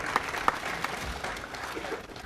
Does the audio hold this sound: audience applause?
yes